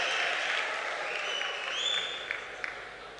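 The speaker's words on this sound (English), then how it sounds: "a big round of applause for Mr. Manoj from Zeal" Audience applause at a business conference session, a dense steady patter of clapping that slowly fades over a few seconds, with no voices over it.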